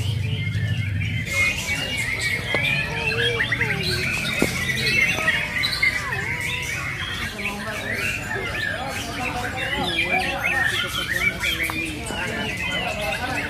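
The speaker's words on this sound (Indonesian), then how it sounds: "Ini burung murai ini." Magpie-robins singing at a bird contest, a dense mix of loud chirps, squawks and whistled song phrases from several birds nearby, with a crowd murmuring underneath and a person talking at the start.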